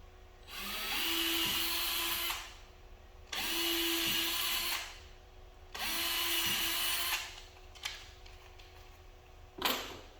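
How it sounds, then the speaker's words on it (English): A small power drill with a small pilot bit whirs in three separate bursts of about two seconds each while drilling pilot holes, with brief pauses between, followed by a couple of faint clicks. "before you use your step bit, I like to use a little small pilot bit."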